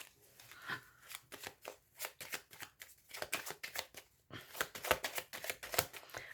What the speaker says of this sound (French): Allez, on étale les cartes.